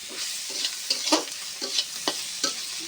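Fish roe and bitter gourd fry in a pan while a utensil stirs them, with a continuous sizzle broken by repeated scraping strokes at an uneven rhythm, close up and with no voices.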